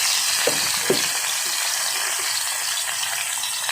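Tomatoes and onions sauté in a pan for ginisang sinigang na talakitok, a loud, steady hiss of frying with a couple of brief knocks early on.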